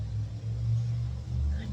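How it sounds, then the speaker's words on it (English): A loud FedEx delivery truck drives past, its heavy low engine rumble swelling and holding steady close by throughout. "Goodness, that is a loud FedEx truck."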